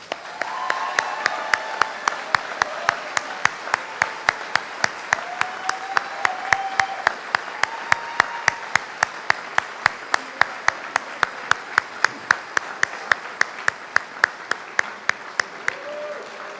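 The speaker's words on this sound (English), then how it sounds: "please join me in acknowledging their commitment with applause" Audience applause at a graduation ceremony rolls on steadily, with one loud close clapper beating a regular rhythm over the softer crowd clapping, and brief voices murmuring underneath.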